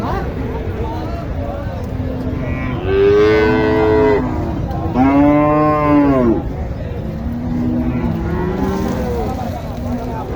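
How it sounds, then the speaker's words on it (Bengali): Sahiwal heifer at a cattle market in Joypurhat gives two long, loud, drawn-out moos in close succession, with softer lowing after and steady crowd chatter underneath. "শাহিওয়াল বকন"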